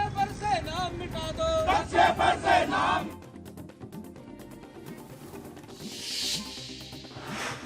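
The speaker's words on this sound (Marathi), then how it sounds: "तिरंगा फडकवत शौर्य गीत गात जल्लोष साजरा।" A celebrating crowd in Bhiwandi, waving the tricolour and singing a patriotic song of valour, rings out loudly for about three seconds, then settles into a busy, noisy crowd hubbub.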